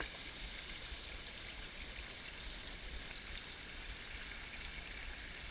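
Steady shallow creek water flows and babbles close by, a continuous soft wash with a trickle from a rainwater outlet in a wall, with no voices over it.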